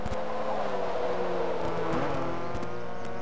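Race cars built to DTMRS spec circle a track during a race, engines droning and revving continuously at middle distance, several cars overlapping in a steady roar.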